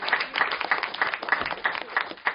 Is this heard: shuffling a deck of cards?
no